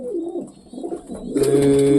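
A racing pigeon coos close by, a soft throaty warble followed by a louder, steadier rolling coo.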